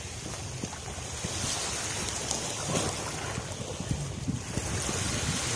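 Winter Black Sea waves breaking on the beach at Odesa, a constant rushing surf with occasional louder splashes and gusts of wind noise on the microphone, fairly quiet and without voices.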